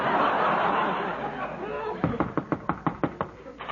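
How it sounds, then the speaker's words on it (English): Someone bangs hard on a door in an old comedy scene, a run of about eight loud, evenly spaced knocks following a stretch of chatter and laughter. "This time he beat the door in."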